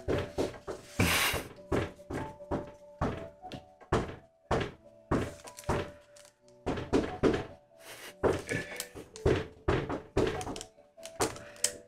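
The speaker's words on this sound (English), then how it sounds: "They're banging on the door." Heavy repeated banging and knocking on a door, a rapid irregular series of loud thuds in bursts with brief pauses, close and dominant throughout.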